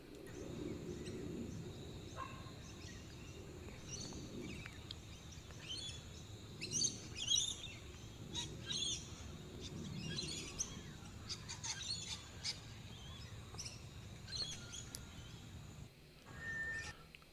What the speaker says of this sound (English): I think in the background there's a trilling call with maybe a cuckoo.